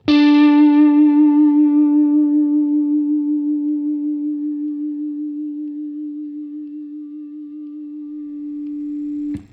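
A single sustained electric guitar note played through the Supreme pedal's heavily compressed side rings out for about nine seconds, fading only slowly with a slight wavering shimmer, alone and loud, cut off at the end.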